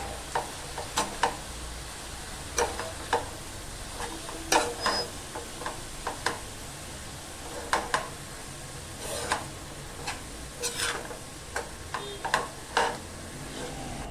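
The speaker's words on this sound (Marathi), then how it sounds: "भाजीमध्ये चवीपुरतं मीठ टाकून घेऊया आणि व्यवस्थित अशी सर्व मिक्स करून घेऊया" A pan of wild phodshi vegetable with salt being stirred, a faint background sizzle broken by irregular sharp spoon clicks and scrapes against the pan, close and alone without talk.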